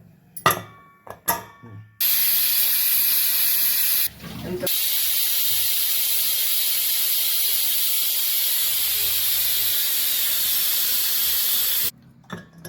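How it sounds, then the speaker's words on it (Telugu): A pressure cooker cooking bottle gourd dal lets out a long, loud, sustained whistle hiss of escaping steam, preceded by clinks and a brief break, cutting off abruptly. "ఇప్పుడు మూత పెట్టి 3 విజిల్స్ రావాలి."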